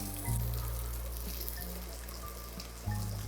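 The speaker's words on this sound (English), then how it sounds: "guanciale going in the pan. Should be nice and hot. Yeah, nice and sizzly." Steady, moderately loud sizzling of guanciale frying in a hot pan, with a low hum underneath and a brief louder burst near the end.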